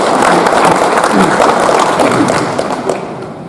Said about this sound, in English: why don't you and join me to appreciate and clap and thank those who helped us